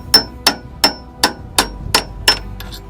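Seven evenly spaced, sharp metallic hammer blows drive a drift while fixing a sailboat's mainsail track. Each close, ringing strike decays quickly, and the last one trails off faintly.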